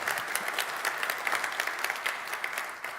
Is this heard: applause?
yes